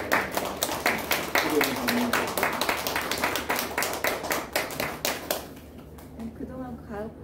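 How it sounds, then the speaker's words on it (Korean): Church congregation applauding during a Sunday morning service, a burst of scattered hand claps that thins out toward the end, with speech-like sounds mixed in. "박수 한번 좀"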